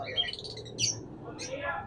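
Cockatiels and other caged birds call in a bird shop, with a couple of short squawks and chirps rising over a steady low background murmur.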